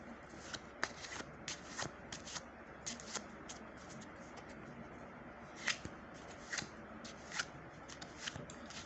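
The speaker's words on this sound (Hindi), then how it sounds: "मैं इसे सिंपली टॉप में रख के शफल कर देता हूँ गाइस।" A deck of playing cards being shuffled by hand for a card trick, soft riffling and flicking with rapid papery snaps, quiet and close, no talking.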